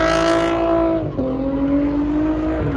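A Dodge Challenger roars at the Import Face Off car show at Wild Horse Pass Motorsports Park in Chandler, Arizona, its loud, close engine dipping briefly mid-rev before surging again, with a hint of tire noise.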